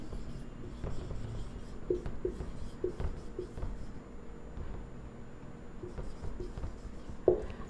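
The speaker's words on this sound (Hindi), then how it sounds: "मैं लिख रही हूं" A pen scratching on paper in short, faint strokes with small pauses, close and quiet, with no talking.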